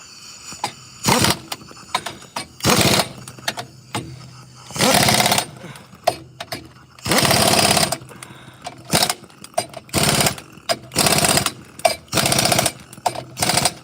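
A power tool zipping bolts down on hay equipment, about eight loud, buzzing bursts of a second or so each, separated by short pauses with quieter handling noises between.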